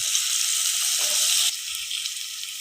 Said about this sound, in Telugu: కొద్దిగా కరివేపాకు వేస్తున్నాను.